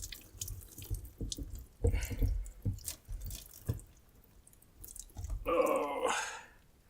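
Water drips and trickles from a full sediment water filter housing as it is opened, with scattered close drops and a short splashing pour near the end.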